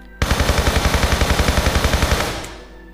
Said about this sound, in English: Maybe we're supposed to start shooting this?